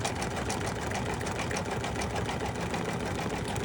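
A sewing machine runs continuously as it stitches through fabric pieces, a fast, even mechanical whirr and rattle held at a constant level from start to finish, with no talking.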